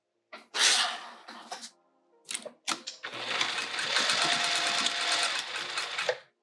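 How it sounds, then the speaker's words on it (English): A sewing machine stitches down a pouch, starting with a few short bursts of needle runs, then a sustained close whirring run of several seconds before stopping. "let's sew this down"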